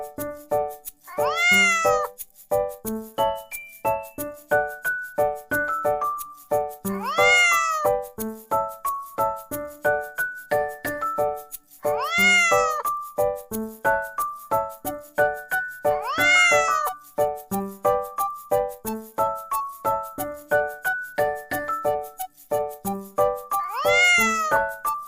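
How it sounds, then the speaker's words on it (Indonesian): Domestic cat meowing repeatedly, five loud, drawn-out rising-and-falling meows spaced several seconds apart over a steady rhythmic musical backing. "Kucing, kucing,"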